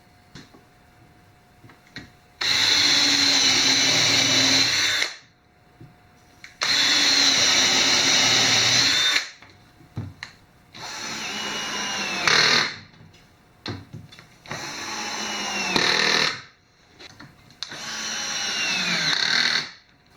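A power tool drives fasteners to secure cabin floorboards to wooden cleats, five loud bursts of high whirring, each a few seconds long, separated by short quiet gaps.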